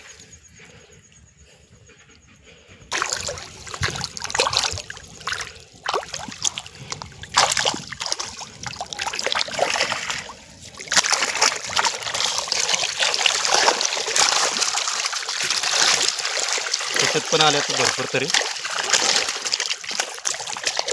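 Water splashes and trickles steadily as a small fish trap is lifted out, with a brief bit of talk near the start and the sloshing continuing throughout.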